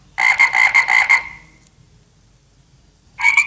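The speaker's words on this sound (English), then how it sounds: "Frog." A frog croaks in a quick series of about eight close, loud pulses, then falls silent before a second burst starts at the end, with no talk over it.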